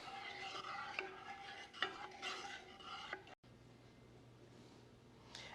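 A utensil stirs cornstarch and sugar into a thick syrup in a pan, soft scraping strokes with a few clinks in quick succession, quiet and close, then a faint low hum.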